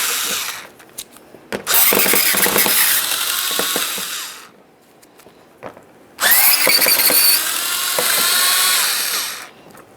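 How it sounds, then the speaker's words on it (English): A power ratchet loosens 7mm mounting bolts on a 2006-2012 Ford Fusion 3.0L V6, giving two loud, close, buzzing bursts of several seconds each, with quieter clicks between them. "Let's start with the 7mm mounting bolts."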